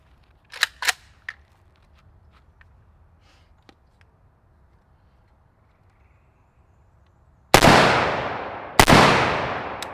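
Mustafa M85 AK rifle fitted with a Nautilus 5.56 muzzle device fires two loud, sharp shots late in the clip, each ringing out with a long decaying tail, after a few quieter clicks and handling noises.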